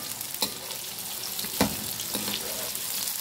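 Thickly cut potato pieces fry in a pan for aalu palak, making a steady close sizzle with soft crackle and a few louder stir-like bumps, with no talking.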